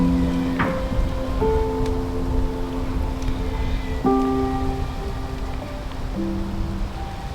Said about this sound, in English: At this point the rain had returned with full force